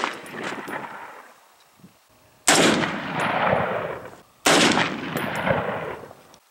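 Diamondback DB10 rifle fired outdoors, two sharp loud shots a couple of seconds apart, each with a long decaying echo, after a quieter earlier blast fading out.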